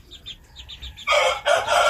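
Chickens in a small backyard coop give soft rhythmic clucks, then a rooster breaks in with a loud, close crow in two strong bursts.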